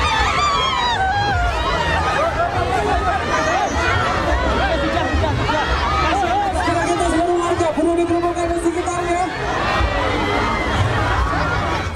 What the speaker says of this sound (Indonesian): Ribuan warga baik pendukung dan simpatisan ini ricuh berebut kaos yang dilempar oleh Joko Widodo dan Lutfi.